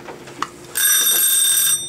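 A timer rings after 20 minutes with a loud, continuous electronic alarm that lasts about a second before cutting off, following a faint click.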